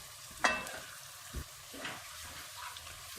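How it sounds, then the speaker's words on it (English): Asaro yam porridge is stirred in a pot, giving a quiet run of soft scrapes and thick bubbling squelches, with one sharper clank near the start; faint, with no talking. "You stir it."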